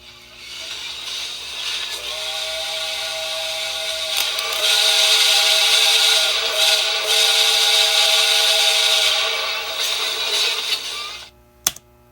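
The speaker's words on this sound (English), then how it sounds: "this is what a real life steam whistle sounds like" A sustained, shrill steam whistle plays over a small speaker, a steady harmonic tone with hiss for about ten seconds, ending in a click.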